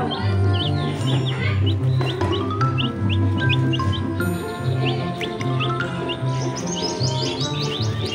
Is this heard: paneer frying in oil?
no